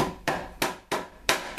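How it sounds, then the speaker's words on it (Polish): A hammer strikes juniper berries on a hard surface, giving five sharp, evenly spaced cracking thuds close by. No talking is heard. "Rozbiłem ten jałowiec młotkiem."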